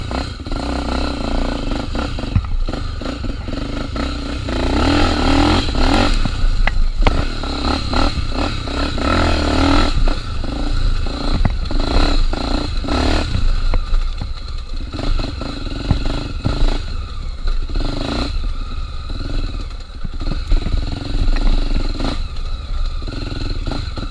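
A Tornado 250 motorcycle on a trail ride, its engine running loud and close with a steady rough drone, throttle blips and rattling clatter over uneven ground, while a rider talks at times.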